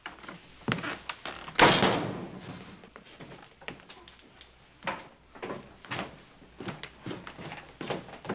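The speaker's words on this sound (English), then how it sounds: "Shut the door, will you?" A door in an old western drama is pushed shut with a dull thump, followed by quieter footsteps and room knocks in a hushed interior.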